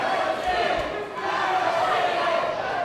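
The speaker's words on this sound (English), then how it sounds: "Listen to this crowd." A crowd at a pro wrestling show cheers and roars in a loud, sustained wall of noise, with faint thuds underneath and no break in the sound.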